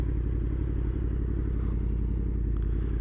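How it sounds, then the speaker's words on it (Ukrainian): An R1 sport motorcycle with an Akrapovič titanium exhaust idles steadily with a low, even rumble from the exhaust, close by and constant throughout. "Тихенько працює двигун, комфортно."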